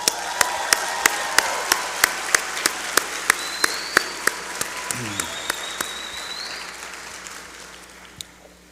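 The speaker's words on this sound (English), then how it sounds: "You are FAMU College of Law graduates and should give yourselves a round of applause." Graduates and guests applaud at a FAMU College of Law hooding ceremony in a large hall, with a sustained bed of clapping and a few sharp, evenly spaced claps standing out before the applause tapers off.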